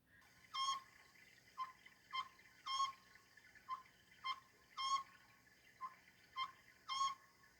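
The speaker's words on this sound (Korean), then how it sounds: "숙소 맞은편 산에서 소쩍새가 울고 있습니다." An Oriental scops owl calls from a mountain at night, repeating a short whistled hoot roughly every half second to second in a steady rhythm, clear but somewhat distant over faint background hiss.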